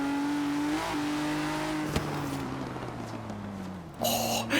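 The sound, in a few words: 2017 Ford GT 3.5 litre twin turbo EcoBoost V6 engine gargling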